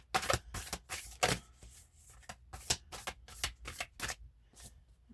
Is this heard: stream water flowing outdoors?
no